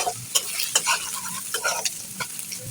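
Onions fry in hot oil with cardamom pods, cinnamon and bay leaves, a close sizzling hiss punctuated by several sharp scraping stirs of a spoon against the pan, no voices.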